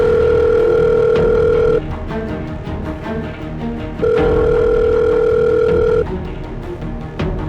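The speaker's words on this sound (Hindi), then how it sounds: "कब से फोन लगा रहा हूँ, फोन क्यों नहीं उठा रही है?" An outgoing phone call's ringback tone plays in two long steady beeps separated by a pause, loud and clear over background music and room sounds.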